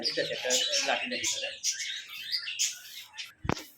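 Pigeons at a pigeon farm chirp and coo in a busy close-up chorus, with voices talking at times over the birds.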